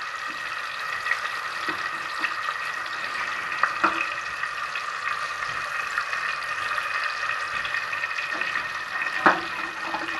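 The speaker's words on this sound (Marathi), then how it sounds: "आपण लसूण, कढीपत्ता आणि कांदा, टोमॅटो हे तेलामध्ये फ्राय करायला टाकलेले आहेत" Garlic, curry leaves, onion and tomato fry in oil for a khichdi tempering, giving a steady, even sizzle with occasional faint clicks and stirring taps, no voices.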